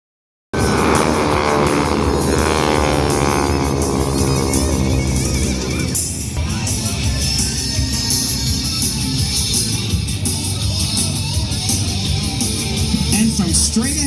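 Thunderbirds jets fly a six-plane implosion formation at an air show, a loud continuous roar that shifts in pitch partway through as they pass, with a narrator talking over it.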